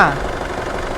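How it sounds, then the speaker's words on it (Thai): A 2007 Isuzu D-Max Hi-Lander 2.5 manual pickup's diesel engine idles steadily up close, a loud, even low rumble with a brief voice at the very start. "นี่นะครับเสียงเครื่องยนต์เงียบมากเลย"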